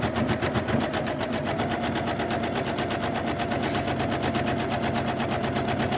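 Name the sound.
embroidery machine stitching a thick border on a zipper bag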